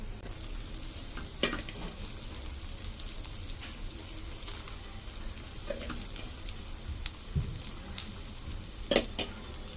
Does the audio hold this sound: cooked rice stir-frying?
yes